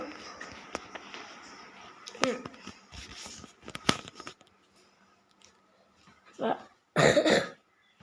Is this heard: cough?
yes